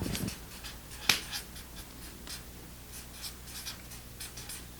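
A pen writing bullet points on paper for sketch notes, close scratchy strokes in short bursts with brief pauses, one sharp tap partway through and a knock at the end.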